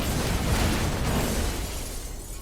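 A C4 bomb detonates in a Roblox game, a loud broadband blast that rumbles and slowly decays over a couple of seconds with no talking.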